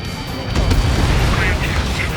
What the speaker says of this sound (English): Bunker buster away.